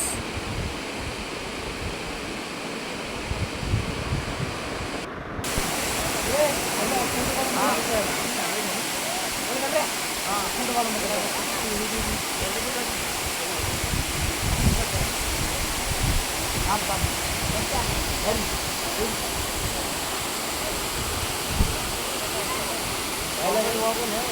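Abbey Falls waterfall in Coorg, India, roaring as a dense, continuous rush of falling water that fills the whole scene at steady loudness, with faint voices of visitors mixed beneath it.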